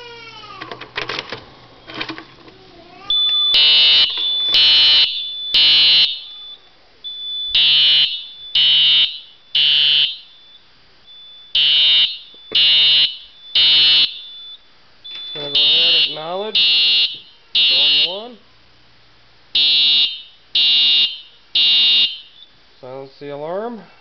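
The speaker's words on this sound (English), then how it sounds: "I'm going to go ahead and activate this alarm by opening the pull station." A Simplex 4004 fire alarm panel sounding temporal code, loud horn blasts in repeating groups of three with pauses between, accompanied by a piercing tone, with voices talking in gaps.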